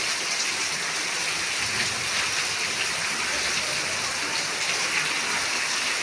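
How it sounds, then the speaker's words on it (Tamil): Steady, dense rainfall pours down in Tiruppur, a constant wash of drops hitting surfaces at an even loudness throughout, with no talk over it. "பாருங்க மழை பெய்யுது."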